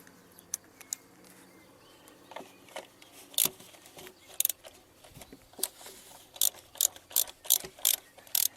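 A ratchet wrench tightens the oil filter housing on a 1.6 HDi diesel engine during an oil change, giving close, crisp ratcheting clicks in short bursts that come faster and louder toward the end.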